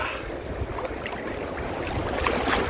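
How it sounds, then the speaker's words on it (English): Ocean waves at Negombo beach wash in a constant broadband rush, with gentle splashes and churning water close by and no voices. "You just have to be a little bit careful about the undertow and the waves"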